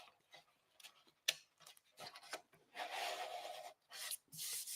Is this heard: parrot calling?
no